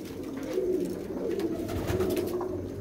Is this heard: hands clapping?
no